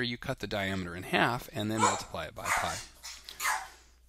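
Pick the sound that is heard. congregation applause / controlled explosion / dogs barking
dogs barking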